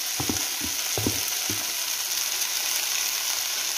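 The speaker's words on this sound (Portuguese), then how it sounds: "A gente tá refogando ele." Cut corn sautés in a pan over a browned base, producing an even close sizzle throughout, with a few quick spoon knocks and scrapes early on and no voices.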